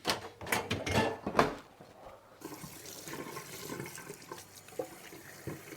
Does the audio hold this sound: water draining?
yes